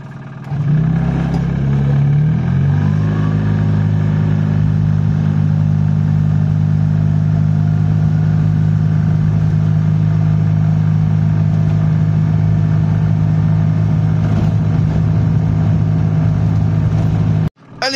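A Microcar M.Go microcar engine revs up and then holds a loud, steady, buzzing drone close by for a long stretch before cutting off abruptly.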